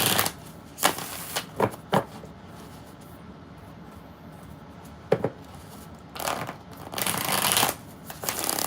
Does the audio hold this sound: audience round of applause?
no